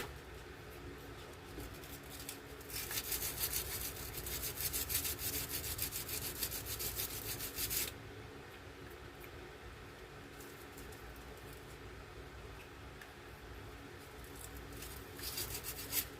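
Cheap Dollar Tree sandpaper rubbed over part of a 1960s two-cycle boat motor, a steady scratchy abrasion that grows louder for a few seconds in the middle, then eases back to quieter strokes.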